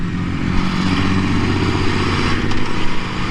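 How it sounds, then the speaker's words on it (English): A 2018 Aprilia RSV4 RR with its V4 engine runs with a loud, continuous rumbling drone, heard close and steady throughout with a slight swell near the end. "this V4, man, when you're actually riding it and hearing it in person, it sounds badass"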